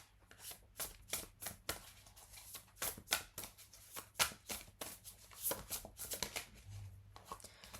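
Tarot cards being shuffled by hand, a quiet run of crisp riffling bursts and soft slaps in an uneven rhythm, close and alone.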